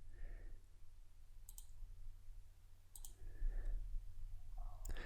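Three sharp computer mouse clicks, spaced apart and close, over a low steady hum with faint murmuring tones in between.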